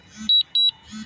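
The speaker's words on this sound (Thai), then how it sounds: "มีการแจ้งเตือนนะครับเพื่อน" Warning beeps from a DJI Mavic Pro drone controller during a return-to-home test in overcast weather: two loud, close pairs of short high-pitched beeps, with a voice speaking just before and after.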